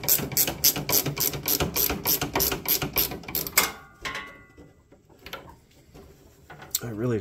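A ratchet fitted with a 10 mm socket clicks rapidly and evenly for several seconds while working on a John Deere LT160 automatic riding mower, then gives way to quieter handling and tool noises close by.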